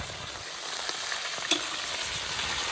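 Pilaf fries in a kazan while being stirred. A dense, close sizzle runs throughout, broken by a few scraping stir strokes and one sharper clink midway, with no voices.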